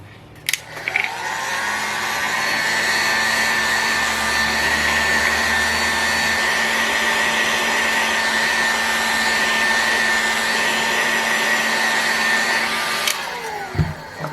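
A heat gun blows hot air onto a Fox 25 model engine crankcase during a ball bearing swap, a loud steady whirring roar with a high whine running almost unbroken for about twelve seconds, with small clicks when it starts and stops.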